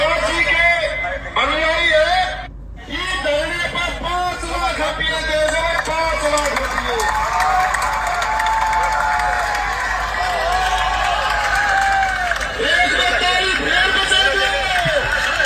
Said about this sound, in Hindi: एक बार ताली फेर बजा दो